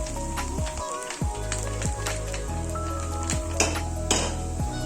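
Kolhapuri misal masala frying in oil in a pot, a constant bubbling sizzle under repeated clanks and scrapes of a spoon against metal, close and fairly loud, with no speech.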